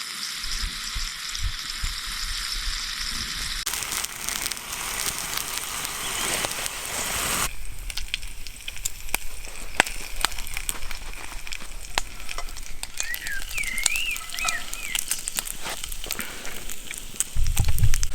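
Bacon frying in a pan over a campfire, a continuous close sizzle and crackle with a brief shift partway through as the pan is moved, and no talk.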